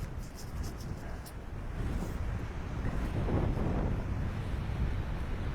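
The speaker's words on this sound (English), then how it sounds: "it's blowing quite a wind down here. You can probably hear it." Strong wind blowing on Findhorn Beach, buffeting the microphone as a rough low roar that swells louder toward the middle and end, with surf-like noise underneath.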